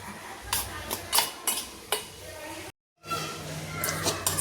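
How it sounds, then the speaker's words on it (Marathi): Chickpeas being mixed with salt and a flour coating in a bowl: a series of distinct clinks and scrapes of a spoon against the bowl in an irregular rhythm, close and fairly clear, with a brief silent gap. "आता हे आपल्याला चण्यांना मिक्स करून घ्यायचं आहे"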